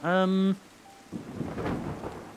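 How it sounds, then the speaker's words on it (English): Rain in the Terra Nil video game: a steady, soft hiss of falling rain with low rumbling swells rises after a brief tonal game chime at the start. "I'm just waiting for that rain to dissipate"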